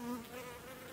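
Golden Buckfast honeybees hum inside a strong colony's hive in Belarus in winter, giving a steady, faint, continuous buzz with no voices.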